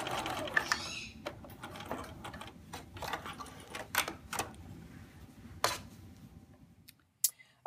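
A sewing machine back-stitches quilt blocks for a butterfly quilt in short, uneven bursts of quick clicking stitches, close to the microphone, with pauses and a few sharp clacks between runs.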